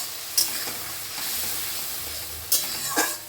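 Ground coriander, cumin and chili powder sauté in hot oil, a steady close sizzle broken by a few quick scraping stirs of a spoon against the pan.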